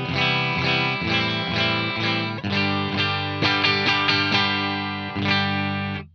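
Fender 70th anniversary Broadcaster Telecaster played through a Sonicake Black Hammer multi-effects unit on a near-clean setting, a run of picked chords and ringing notes, close and steady, with no talking.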